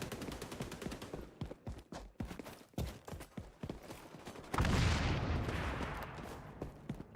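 Rapid bursts of gunfire in the XDefiant shooter game crack out in quick repeated shots, followed by a louder sustained blast or explosion-like rush of noise near the end.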